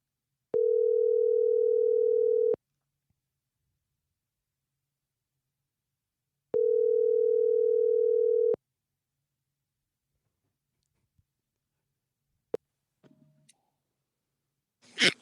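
Telephone ringback tone while a call connects: two steady, evenly pitched beeps of about two seconds each, separated by a long silent gap, followed by quiet and a few faint clicks and rustles.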